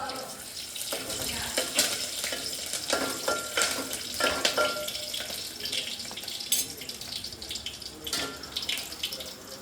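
Green chillies and leafy vegetables for kavla bhaji sizzle and crackle in a hot pan in a Konkan home kitchen, a steady close frying hiss with irregular spits and pops, no talking.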